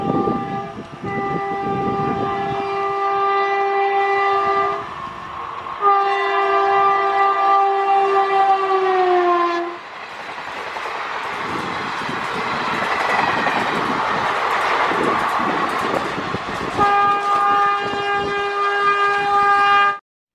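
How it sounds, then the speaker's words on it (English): A train horn blows in long sustained blasts, broken by a stretch of loud rushing and rattling rail noise before the horn returns. "T for train."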